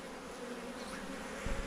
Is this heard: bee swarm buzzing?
yes